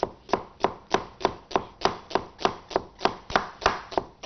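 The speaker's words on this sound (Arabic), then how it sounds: "ونقطع ايه شرايح جوليان" Crisp knife strokes cut an onion into julienne strips on a board, a close and very regular rhythm of about a dozen sharp chops at roughly three per second, with no voices over them.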